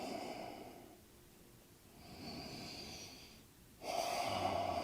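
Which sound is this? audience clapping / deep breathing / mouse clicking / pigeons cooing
deep breathing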